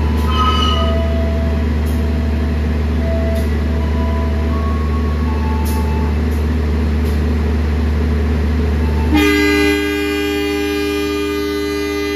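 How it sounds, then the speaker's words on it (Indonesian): Joglo Semarkerto train pulling into Jogja station with a constant low rumbling drone, then a loud sustained horn blast sounding near the end. "Di sana juga ada kereta yang masuk teman-teman, kereta api Joglo Semarkerto."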